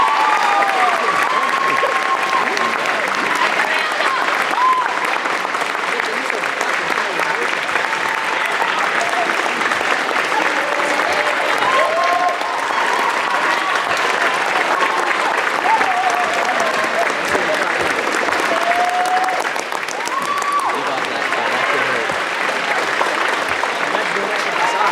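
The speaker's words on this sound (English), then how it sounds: "let's give our service members another round of applause" Sustained audience applause for service members at a Veterans Day ceremony at a middle and high school, a dense, steady wash of clapping across the whole stretch with some cheering voices mixed in.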